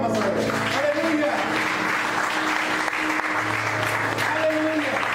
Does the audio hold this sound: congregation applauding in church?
yes